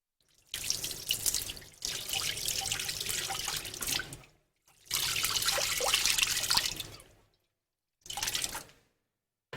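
Tap water runs in a kitchen sink in three separate bursts as hands are rinsed, a close, steady splashing gush that stops abruptly between each run, the last one short.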